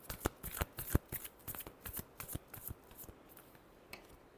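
A deck of tarot cards is shuffled up close in a quick run of crisp riffling snaps that thin out and fade toward the end, with no talking over it.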